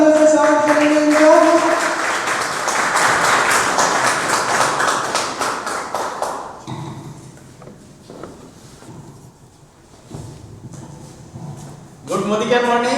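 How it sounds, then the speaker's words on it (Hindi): An audience at a meetup in Kaimganj claps to welcome a speaker, with dense, loud applause that gradually thins into scattered claps, and voices talking over it at the start and the end. "जोरदार तालियों से स्वागत करेंगे इनका"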